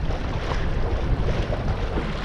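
Wind gusts blow across an inland lake during a sailing trip, a steady loud rush of wind buffeting close by with the wash of water beneath.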